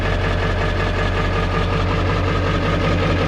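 A 1995 Ford F-350 XL with a Powerstroke diesel idles right after a cold start, a loud, steady, close-up rumble with a constant low throb and a rattly clatter and no pauses.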